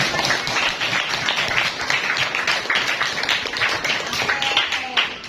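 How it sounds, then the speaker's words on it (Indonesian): Children clap in a classroom, a dense, steady patter of many small hands lasting several seconds at close range, with a few voices mixed in. "Tepuk tangan tuh anak-anak."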